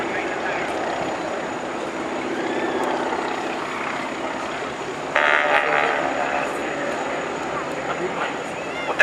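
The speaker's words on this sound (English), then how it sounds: "Martin Carrington flies the aircraft inverted, and David Barrell flies the lower aircraft to close the gap between the two." Display aircraft fly at the RNAS Culdrose airshow, producing a steady engine drone and roar that rises louder midway, under continuous commentary.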